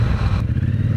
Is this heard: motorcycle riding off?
yes